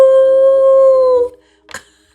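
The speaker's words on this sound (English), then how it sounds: "howling." A dog or wolf gives one long, loud, close howl that holds a steady tone and then cuts off, followed by a short yip or bark and silence.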